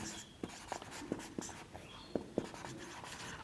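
Chalk or marker tapping and scratching out words on a board during an English grammar lesson, a string of short, sharp strokes at an uneven rhythm, close and fairly faint, with no talking.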